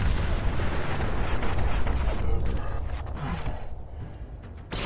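Weapon fire in Fallout 4, a heavy booming discharge with a long rumbling tail that fades over several seconds, loud and close.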